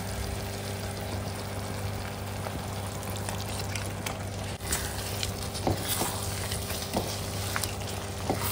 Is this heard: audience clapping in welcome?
no